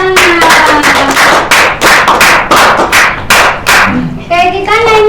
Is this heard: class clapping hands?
yes